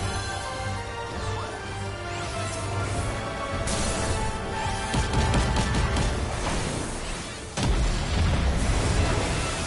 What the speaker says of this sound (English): Hooray, explosions!